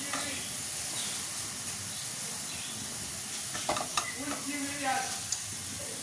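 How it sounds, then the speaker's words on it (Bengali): Prawn fritters frying crisp in oil give a steady soft sizzle and hiss, with a few clinks of a utensil near the end and faint voices in the background. "একদম মচমচে লাল বড়া ভাজা আমার রেডি। চলো তুলে দিই।"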